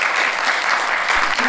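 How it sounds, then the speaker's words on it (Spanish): Applause from an audience at a pedagogy student research forum: a brief, dense burst of steady clapping filling the room, loud and close. "un aplauso"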